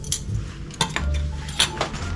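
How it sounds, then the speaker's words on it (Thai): Metal camping spoon and fork handled and knocked together, giving several short bright clinks and rattles spread over two seconds, close to the microphone with no talking. "มีช้อนส้อม"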